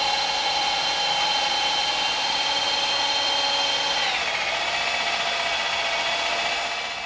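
An electric drill drives a vintage Walker car lift upward, a loud, steady whining motor drone with a slight pitch drop midway, continuous and close throughout.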